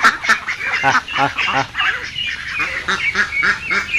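Geese and ducks penned together near a feeding tub honk and quack at close range. Harsh honks repeat in clustered runs with brief lulls, several birds calling over one another with no speech.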